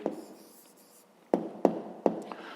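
Handwriting an answer on paper for a fifth-grade maths exercise: a soft scratchy stroke, then a quiet pause, then several sharp pen taps and strokes at a steady pace, close and fairly faint.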